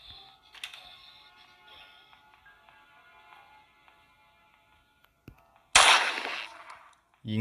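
Gunfire in the horror video game Granny: Chapter Two, a sudden loud burst of shots after a stretch of quiet clicking and soft game noise, with another blast starting right at the end.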